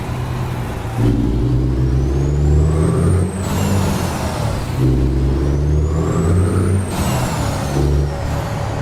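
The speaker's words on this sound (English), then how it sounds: "Let's hear the engine from the outside real quick." A Kenworth T600 truck engine in the video game American Truck Simulator, heard from outside, drones loud and steady with a deep rumble and a rising whine that swells twice as the revs climb and fall.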